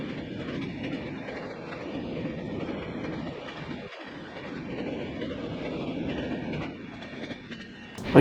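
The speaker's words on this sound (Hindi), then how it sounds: "और ये हमारी ट्रेन अमरोहा स्टेशन स्किप कर रही है।" The 20504 New Delhi–Dibrugarh Rajdhani Express runs at speed past Amroha station, heard from inside as a continuous loud rumble with rhythmic wheel clatter and a brief dip before a final swell, with no talking.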